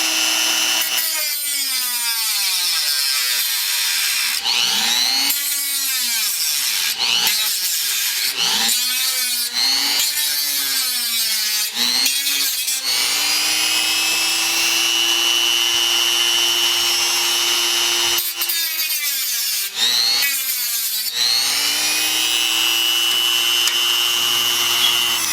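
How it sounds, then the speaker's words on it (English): Dremel rotary tool with a metal cutoff blade cutting on an Xbox LCD mod, a high whine rising and dipping in repeated bursts, then running in long steady stretches, loud and close. "So I'm just going to finish the rest with the Dremel here. I have a metal cutoff blade"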